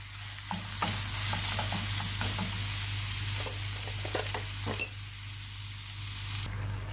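Chicken cooking in tomato sauce in a pan, with a continuous soft sizzle and a series of close scraping, tapping stirs, plus a few sharper clicks, and no voices.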